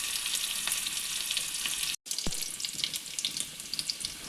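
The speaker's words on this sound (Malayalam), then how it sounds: "നമുക്ക് വാളക്കറിക്ക് കടുക് വറുക്കാം." Mustard seeds frying in hot oil for a Kerala fish curry, a steady close crackling sizzle that cuts out briefly and then resumes with sharper pops and spatters.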